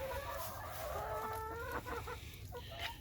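Blue Star and Rhode Island hens cluck nearby on a farm at morning feeding, a run of drawn-out squawking calls and short clucks over a low steady hum.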